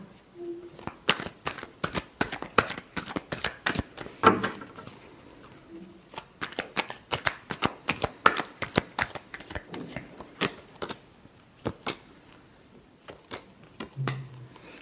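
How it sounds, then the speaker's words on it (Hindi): Tarot cards being shuffled in quick repeated riffling bursts, a steady crisp patter of card edges slapping together up close for the whole stretch. "Last shuffle."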